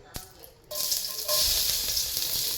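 Garlic dropped into hot oil in a pan for gotong Batangas, a quiet moment with a click, then a sudden bright sizzle that swells and holds steady up close.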